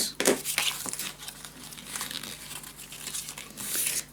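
Paper being folded and creased by hand for a scrapbook mini album, giving close crinkling and rustling with a few sharper crackles at the start and near the end, with no talking.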